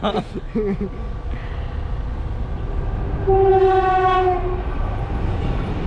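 A train near Tiruchendur passes with rumbling, clattering wheels and sounds a long, loud horn blast partway through, the noise staying heavy to the end.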